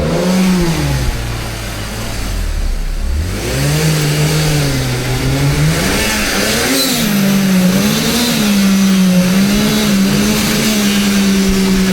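BMW 630i engine running and revving loudly, its pitch climbing and falling through repeated revs over a steady running note, close up and with no talk over it.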